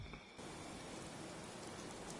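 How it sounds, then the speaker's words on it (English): Rain pours steadily in the post-apocalyptic game world of Fallout 76, a dense even hiss that swells in abruptly after a quieter first moment and carries on without speech. "It's raining."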